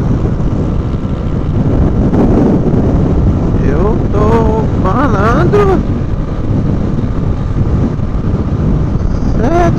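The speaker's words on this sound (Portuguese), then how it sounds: "o vento tá forte" Steady, loud wind roaring and buffeting the microphone of a motorcycle rider in São Paulo throughout, with someone talking briefly partway through.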